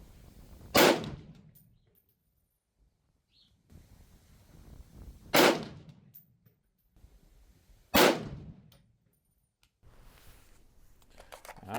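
Suppressed rifle shots from a Stag rifle fitted with a Thunder Beast suppressor, firing Federal ammunition: three sharp, spaced cracks with short decays at an outdoor range, and a fainter fourth report near the end.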